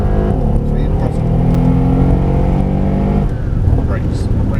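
A Mercedes-AMG SL63 on a race track, engine revving hard and pulling through acceleration, loud and close, with an instructor's voice coaching over the engine note.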